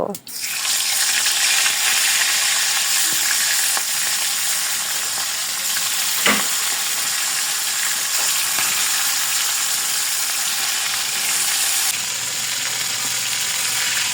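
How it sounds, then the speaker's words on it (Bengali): Pieces of rohu fish sizzle steadily in hot oil in a wok, a loud, dense, continuous frying hiss that holds for the whole stretch with only slight shifts and a brief clink partway through. "কড়াইতে তেল দিয়ে একটু গরম করে মাছগুলি ছেড়ে দেব"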